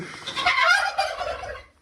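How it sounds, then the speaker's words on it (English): A flock of turkeys gobbling in a rapid, overlapping burst of rattling calls in a barn, fairly close and loud, fading out at the end. "Gosh, I hate these turkeys"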